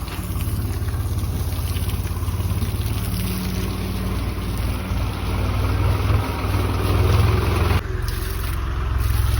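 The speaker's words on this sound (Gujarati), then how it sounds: "તો ગાઈસ ટ્રેક્ટર આવી ગયું હે તોરવા માટે જો" A tractor engine idles nearby with a steady, low, continuous rumble throughout, briefly shifting in tone near the end.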